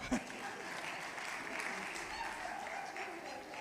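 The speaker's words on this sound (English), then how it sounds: "Clap for yourself." Sustained applause from a lecture audience during a breakout session on traditional and complementary medicine, a dense steady patter of many hands clapping for several seconds at moderate distance.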